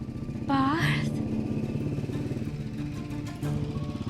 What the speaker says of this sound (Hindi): ये तो पार्थ की बाइक की आवाज है।